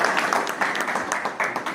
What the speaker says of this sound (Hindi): ताली बजा करके उनका स्वागत करें।